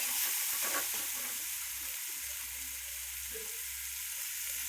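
A spoonful of red chili powder goes into a hot pan of oil for a horse gram curry, and a steady, close hiss of sizzling carries on throughout with a few soft stirring touches.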